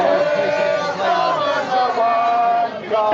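A dense protest crowd in Southampton roars and shouts continuously, loud and close, with voices merging into a sustained wall of chanting and yelling.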